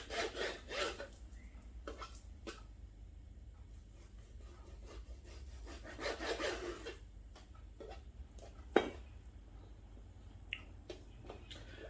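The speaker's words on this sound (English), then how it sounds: "Cut this into thinner slices first." Knife slicing a piece of beef into thinner slices on a board for crispy chilli beef, giving soft rubbing, rasping strokes in short bursts with quiet pauses and one sharp tap.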